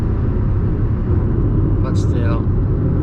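A 2020 Toyota Aygo 1.0 accelerating hard at full throttle on a highway, a steady loud engine and road drone filling the cabin, with a brief higher whine rising midway.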